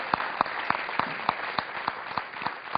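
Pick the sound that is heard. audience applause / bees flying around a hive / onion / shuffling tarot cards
audience applause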